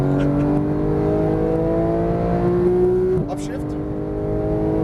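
A Porsche 911 GT3 of the 991 generation pulls hard on a race track, its engine note climbing steadily before a sudden break in pitch and a lower, continuing roar.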